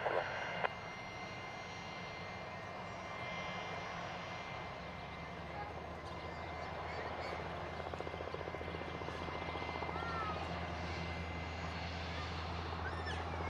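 A jet aircraft approaching to land on runway 16 right at Van Nuys Airport, California, its engine roar heard from a distance and rising steadily, with a low continuous hum underneath.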